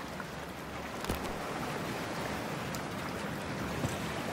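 Plunging into cold water in Cyberpunk 2077, a continuous rushing wash of water and low rumble with a soft splash-like burst early on, steady and close.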